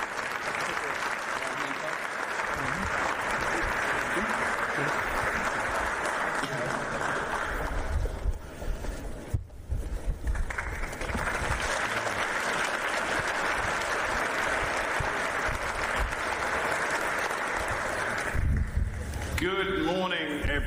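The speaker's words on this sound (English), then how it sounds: "I really promised him a rousing applause from everyone here" An audience in a packed London hall applauds to welcome a NATO panel, sustained, dense clapping that dips briefly midway and resumes before fading out.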